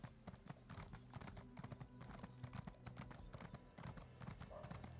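Horse hooves clip-clop in a steady rhythm in The Elder Scrolls Online, close and clear, running throughout with a voice talking over them.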